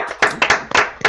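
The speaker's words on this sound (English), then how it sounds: "And let's have a thunderous round of applause for Dave for organizing the whole thing." Several sharp, close hand claps in an uneven rhythm at a bird count wrap-up and Christmas party, a handful of people clapping briefly rather than a full room.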